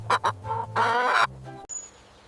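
Chicken clucking in a few short bursts, clear and close, followed by a softer drawn-out call trailing off.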